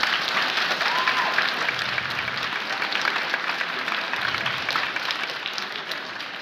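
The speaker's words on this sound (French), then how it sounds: "Je pense qu'on peut l'applaudir." Children in an audience applaud Holocaust survivor Simon Gronowski after he tells his story at a school in Nandrin, a full, steady round of many small hands clapping that continues for several seconds and eases slightly toward the end.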